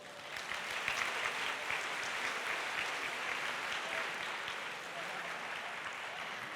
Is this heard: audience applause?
yes